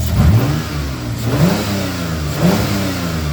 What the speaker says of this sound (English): the engine is running, and if I give it like a full throttle snap